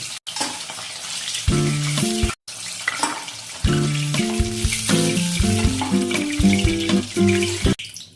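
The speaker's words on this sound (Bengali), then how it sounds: "দুটো পিঠ একটু লালচে করে ভাজা হয়ে গেছে" Steady oil sizzle of paneer frying in a pan, loud and close, with bright tonal music playing over it and two brief cut-outs to silence.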